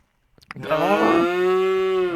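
A single cow moos nearby, a long low call that swells and then holds steady, following a few soft clicks.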